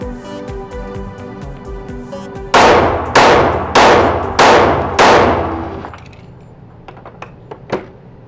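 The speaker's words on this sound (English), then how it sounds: "Shooting the Kimber SIS PRO," Five loud, evenly spaced pistol shots from a Kimber SIS PRO 1911 ring out close by, each sharp crack trailing off in a short echo, followed by faint clinks of brass and handling noise.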